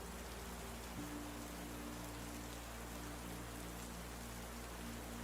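Steady rain falls at a summer camp by a lake, a dense, even hiss with no pauses, and a low, faint hum runs beneath it throughout.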